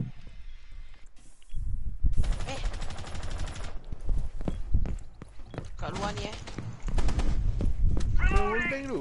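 Gunfire and explosions in a PS4 tactical shooter, rapid bursts of shots and impacts echoing through a building while someone talks excitedly over the chaos.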